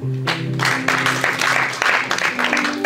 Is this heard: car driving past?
no